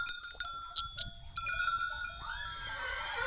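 Several goats bleat close by in a pen on a Sardinian mountain plateau, overlapping nasal cries over a low rustling background, with a bell-like ringing tone sustained through much of it.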